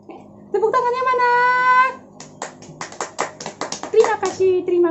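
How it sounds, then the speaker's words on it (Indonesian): A short run of audience handclaps, uneven and spaced, follows a sustained musical voice cue; a voice speaks amid the claps near the end. "Tepuk tangannya mana?"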